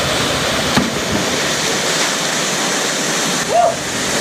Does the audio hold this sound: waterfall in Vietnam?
yes